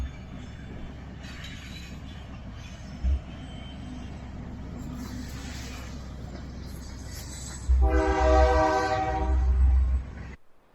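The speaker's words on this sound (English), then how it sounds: "we got into town just in time to see the train." A train rumbles steadily nearby in Live Oak, Florida, then its horn blasts loudly twice near the end over the continuing roar of the cars.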